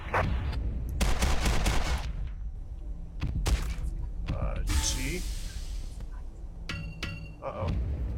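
Grenade thrown and exploding in a video game, a broad noisy burst amid scattered gunfire bursts and clinks, loud and close, with someone talking over the game sounds.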